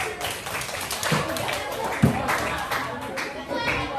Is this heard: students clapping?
yes